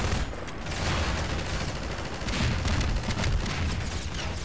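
An enemy firing rockets in the video game Cosmonaut, as a dense, continuous barrage of blasts and rumbling booms that stays loud and steady throughout.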